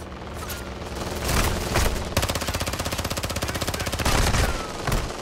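A video game turret opens up in a long, steady burst of rapid automatic fire, loud and close, with heavier booming shots around it and scattered blasts before and after.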